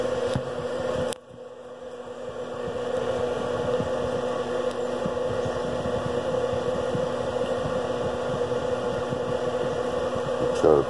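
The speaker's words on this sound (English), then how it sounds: "I have that guy running off of just one motor." A single electric motor runs steadily with a constant hum and faint whine, close and continuous, briefly dipping near the start before resuming without talk.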